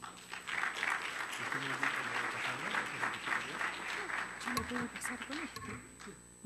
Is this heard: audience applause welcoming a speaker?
yes